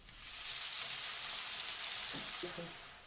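Garlic, onion and chopped chili frying in oil for Old Dhaka-style beef biryani: a steady, dense sizzle throughout, close and fairly loud, with faint stirring knocks near the end.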